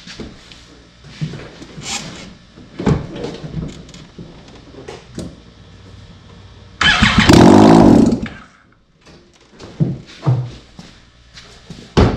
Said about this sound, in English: I'm gonna start it up. Hopefully fire comes out, and hopefully I don't blow my motor up.